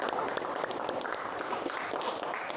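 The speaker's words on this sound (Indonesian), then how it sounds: "Kita beri aplaus yang luar biasa." Sustained applause from a classroom of students after group 4 finishes presenting in an Indonesian sociology lesson: a dense, steady patter of many hands clapping at once, with no break across the clip.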